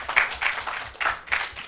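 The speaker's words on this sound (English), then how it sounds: "A round of applause for" An audience at a university law quiz contest claps for the contestants in a short burst of applause, a few rhythmic waves of clapping heard fairly close.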